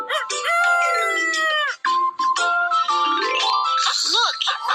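A rooster crows in a bright, harmonically rich call, heard clearly and loudly alone, with a few extra rising and falling calls trailing after the main crow.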